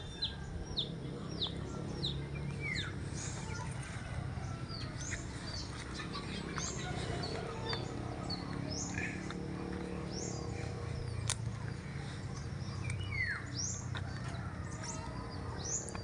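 Many small birds, sunbirds among them, chirp and tweet in quick, scattered calls from several directions outdoors, over a steady low background.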